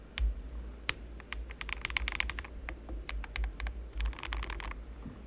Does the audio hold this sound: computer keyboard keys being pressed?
yes